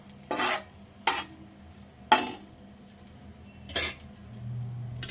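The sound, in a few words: frying dried red chillies in a pan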